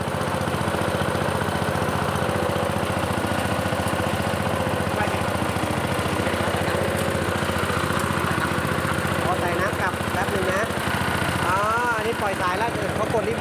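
A Maruyama MS 613 remote-controlled sprayer's engine runs steadily at close range, a constant mechanical drone with a rising, wavering whine near the end as the throttle changes.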